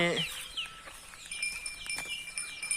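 Chickens cluck around a rural Thai house, several short clucks and calls close by over faint outdoor background, without talk.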